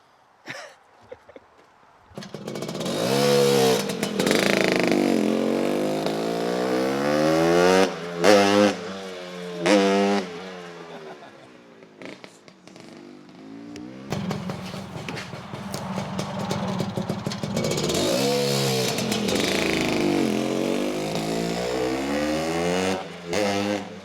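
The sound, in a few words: custom Honda CB450 motorcycle engine running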